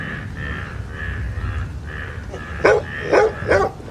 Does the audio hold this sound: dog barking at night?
yes